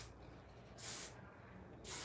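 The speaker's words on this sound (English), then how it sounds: "I'm lifting the hair and I'm only spraying it on the roots" Hairspray from an aerosol can sprayed onto the roots of lifted natural hair, two short close hissing bursts separated by a quiet pause.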